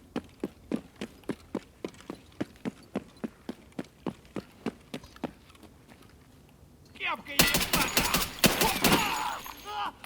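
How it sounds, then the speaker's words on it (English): STM-9 carbine fire in Escape from Tarkov, a steady series of about twenty sharp, evenly spaced shots, then a pause and a dense loud clatter of noisy in-game action; a voice also speaks. "Just dumped rounds."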